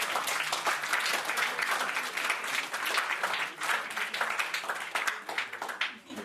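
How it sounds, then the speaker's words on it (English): An audience at a 2017 keynote event applauds, loud sustained clapping from many hands that swells and keeps going for several seconds, with a voice faintly underneath. "another round of applause"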